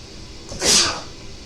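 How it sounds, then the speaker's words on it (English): A single sharp sneeze bursts out close by, brief and loud against quiet background. "I'm going to sneeze."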